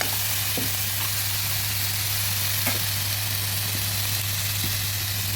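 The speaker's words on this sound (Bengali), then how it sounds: "ভালোভাবে নেড়ে দিচ্ছি।" Ground cumin and coriander with a splash of water sizzle steadily in a frying pan as they are stirred for a rohu fish and potato curry, with a constant low hum running underneath.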